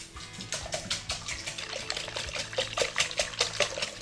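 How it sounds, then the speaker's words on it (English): Cold milk is poured into eggs and whisked, making a quick run of wet, rhythmic swishes and clinks against the bowl, a close, lively sloshing with no talk. "we're going to add our 3 cups of milk here, nice and cold, and just whisk it into the eggs"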